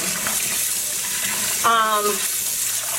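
Water runs from a tap while a tie-dyed knit is rinsed, giving a steady close hiss of flowing water with a brief splashing burst midway.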